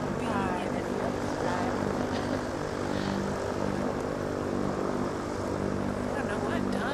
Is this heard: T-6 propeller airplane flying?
yes